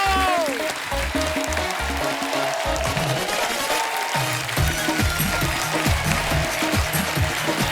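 Studio audience applause on the set of The Kapil Sharma Show, a Hindi comedy talk show, as the host is welcomed; sustained loud clapping mixed with music and voices throughout.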